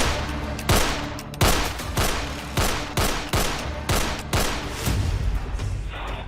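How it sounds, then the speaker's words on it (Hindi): A gang shooter fires a gun, about eight sharp, loud shots in a fairly regular rhythm roughly every half to three-quarters of a second, each with a brief echoing tail. "ये जो गोली चला रहा है वो लॉरेंस गैंग का शूटर नंबर 1 है"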